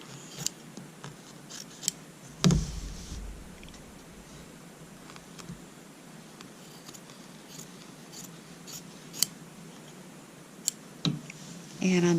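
Scissors trimming the fabric edges of a French Braid quilt block: scattered crisp snips and clicks, close by, with quiet pauses and faint handling noise between cuts.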